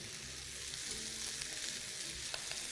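Flour cooking in melted butter in a pan for a pasta sauce gives a steady, dense sizzle with soft stirring scrapes, close and continuous, with no talking.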